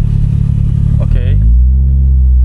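A big turbo SR20 Nissan Sentra pulls away without stalling, a loud close engine rumble inside the car rising briefly as it moves off, with people talking over it.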